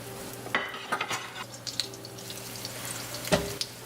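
Breaded pork loin chops, skin side down, fry in olive oil in a pan, a soft sizzle broken by a few sharp clacks and scrapes of utensils, close by, with no talk.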